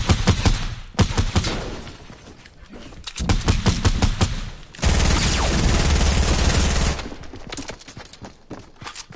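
Automatic and rifle gunfire in a Fortnite Battle Royale match, loud rapid bursts and single shots, then a long sustained stretch of continuous fire before more scattered shots.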